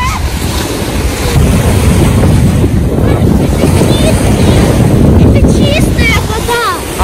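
Loud cold wind roars across the microphone while waves surge and wash at the shore, with faint bird chirps and brief voices in the background.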